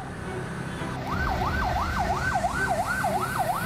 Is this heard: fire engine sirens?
yes